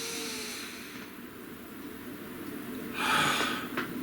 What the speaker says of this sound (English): Please take a nice deep breath.